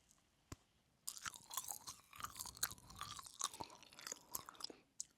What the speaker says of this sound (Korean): 남은 바나나 먹어볼게요